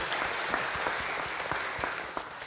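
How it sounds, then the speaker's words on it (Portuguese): Applause from a church debate audience in Curitiba, a moderately sized crowd clapping steadily with distinct hand claps audible, tapering slightly toward the end. "então podemos dar uma salva de palmas já ao Padre Emerson e a Evangelizar."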